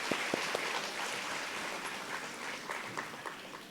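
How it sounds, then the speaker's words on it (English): An indoor audience at a school graduation ceremony applauds warmly, a dense, even wash of clapping that holds steady for several seconds and then begins to thin slightly toward the end. "let's please give her a big round of applause"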